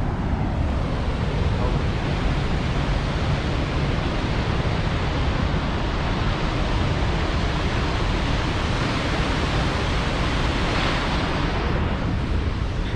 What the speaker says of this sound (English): Check it out, we found the waterfall.